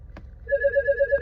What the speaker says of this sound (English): another phone call. These people, stop calling me.